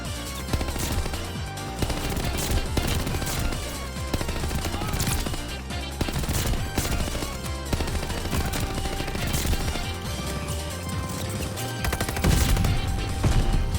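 Rapid automatic fire from the Attack on Titan-themed gun in Call of Duty: Vanguard, a continuous loud barrage of shots with layered game effects throughout.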